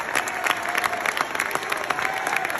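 Applause at a public event where a family is meant to be standing, steady dense clapping from a crowd with faint cheering, continuous and moderately loud throughout.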